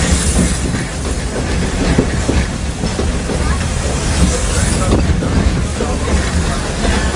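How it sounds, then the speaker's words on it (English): Walt Disney World Railroad steam train rolling along, a dense continuous rumble with rhythmic wheel clatter heard close from aboard, steady and loud throughout. "This old steam train needs water to keep going, just like you and me."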